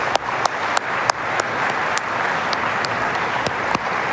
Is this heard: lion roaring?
no